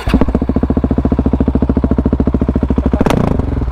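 A motorcycle engine idles close by with a rapid, throbbing putter, then revs briefly near the end before settling again.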